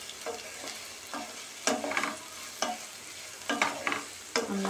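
Mustard seeds and cumin tempering in hot oil in a pan, crackling and sizzling in repeated short bursts a few times a second, close and fairly loud with no talk.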